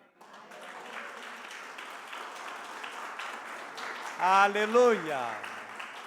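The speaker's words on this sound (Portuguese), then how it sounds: "E você pode aplaudi-lo por isso?" A church congregation at a Christmas sermon claps together in a steady wash of applause, and a voice shouts out briefly partway through.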